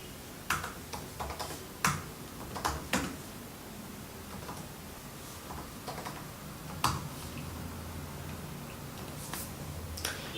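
Keys tapped on a computer keyboard while a script command is entered, heard as scattered sharp clicks in short irregular bursts, fairly close, over steady background hiss with no talking.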